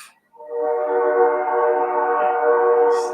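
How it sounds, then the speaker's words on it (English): A loud, sustained train horn blares steadily for nearly three seconds, a rich chord of stacked tones holding without a break. "the train horn"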